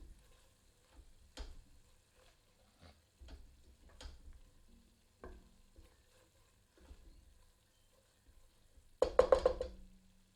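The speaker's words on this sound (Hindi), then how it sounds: "एक बार अच्छी तरह करछी चलाते हैं" A ladle stirs dried fenugreek leaves and spices in a pan, producing sparse quiet scrapes and taps with pauses between them, then a brief louder sizzle and clatter near the end.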